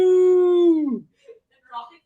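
Rocket, a dog at a 5K race event, lets out a drawn-out, whining yawn that slides downward and trails off after about a second, followed by faint, scattered sounds nearby.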